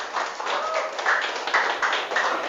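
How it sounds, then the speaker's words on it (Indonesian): Audience clapping at an Indonesian teacher-training class session, a dense, steady patter of many hands lasting throughout without pause. "Tepuk tangan untuk kita semuanya"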